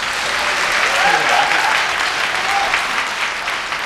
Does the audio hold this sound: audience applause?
yes